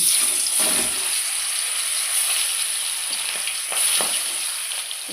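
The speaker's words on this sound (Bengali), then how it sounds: "সর্ষের তেল গরম করে মাছে নুন হলুদ মাখিয়ে মাছটা ভেজে নেব" Rita fish rubbed with salt and turmeric fry in hot mustard oil, giving a loud, steady, close sizzle with a few brief pops and crackles over five seconds, and no one speaking.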